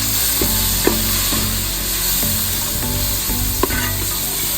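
Whole spices such as cinnamon and cardamom, with turmeric powder, fry in oil in a pan for Kozhikodan dum biryani. A steady close sizzle runs throughout, with occasional louder pops and stirring clicks.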